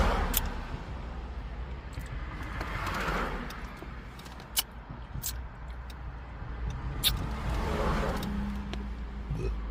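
Cars pass by on a road, swelling and fading one after another at moderate distance, with a few sharp ticks and clicks over the traffic hum.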